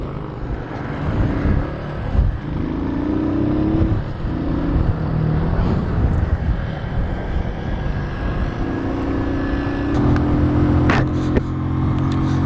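A Keeway Cafe Racer 152 motorcycle engine runs close by with a steady idle hum that rises into a couple of brief revs, loud and continuous with no talking.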